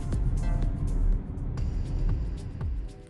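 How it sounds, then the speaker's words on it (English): A BMW X3 xDrive 20d on low-profile tires gives a steady, broadband road roar as the tires roll along, with a low rumble that holds without a break and has no talk over it. "With the low profile tires, you will most likely hear the tires rolling."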